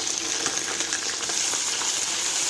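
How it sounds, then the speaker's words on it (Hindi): Ginger garlic paste goes into golden fried onions in a pan, and a steady close sizzle of frying runs throughout with faint stirring scrapes. "प्याज गोल्डन हो गए। अब हम इसमें जिंजर गार्लिक पेस्ट डालेंगे"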